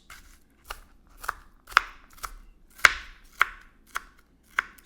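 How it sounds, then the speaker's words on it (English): Knife chopping an onion into small pieces on a cutting board, eight or so distinct crisp chops at an uneven, unhurried pace, close and clear with no talk. "So I cut up the onion"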